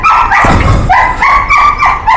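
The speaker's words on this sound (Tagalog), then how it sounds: "mga aso ko umiyak na" Several pet dogs whine and yelp loudly at close range in rising, crying tones, broken by a short bark partway through.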